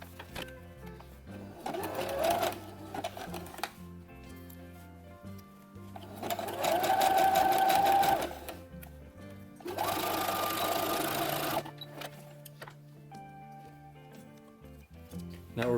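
A domestic sewing machine stitches a jumpsuit sleeve cuff in three close, steady whirring bursts, separated by quiet pauses with faint handling sounds.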